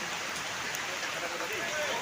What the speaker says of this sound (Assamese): এইফালে আকৌ বৰষুণো দি আছে